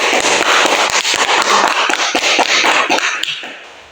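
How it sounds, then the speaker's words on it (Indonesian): A crowd claps loudly and steadily for about four seconds at an Indonesian gathering, a dense wash of many hands that thins and fades at the end, with no talking. "Oke, beri aplaus."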